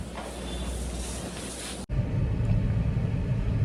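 Hyundai Xcent 2015 petrol top model car on the move, a steady low engine and road rumble that breaks off briefly, then returns slightly louder and fuller, close and continuous with no voices.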